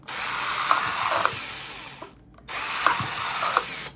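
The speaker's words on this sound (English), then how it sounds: "what size hole you need to drill in your cups" A power drill bores holes into plastic cups for a Christmas sparkle ball, two loud bursts of whirring with a short pause between, close and without talk.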